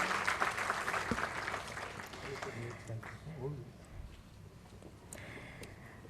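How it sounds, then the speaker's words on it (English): A conference audience at an Indian space conclave gives a round of applause after a session. Scattered clapping is fairly loud at first and then thins and fades, with faint voices under it. "Can I have a round of applause for this session?"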